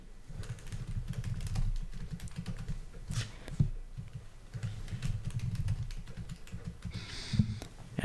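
A new password is typed on a computer keyboard in a steady stream of quick, close key clicks, with occasional louder keystrokes and a short pause near the middle.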